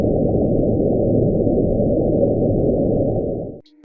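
Julia, an unexplained underwater sound recorded in 1999 by NOAA hydrophones deep in the Pacific, is a dense, low, continuous rumbling drone that holds steady for several seconds before cutting off abruptly.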